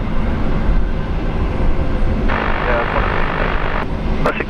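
A plane takes off from a runway at Brisbane International Airport, a loud, steady broadband engine roar that holds throughout with little change in level.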